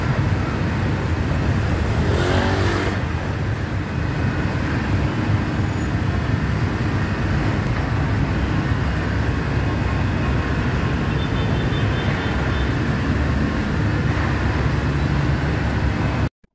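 Continuous roadway rumble of passing cars and heavier vehicles on the Felix Ave highway by Karangalan Village, heard while riding a motorcycle, with wind buffeting and a dense, steady roar.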